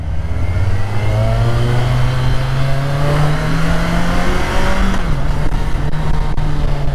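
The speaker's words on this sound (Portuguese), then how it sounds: "o motor 4 cilindros aqui encaixou muito bem." A Kawasaki Versys 1000 four-cylinder motorcycle engine revs steadily and loudly on the Interlagos track, pitch rising and falling with throttle, continuous and close throughout.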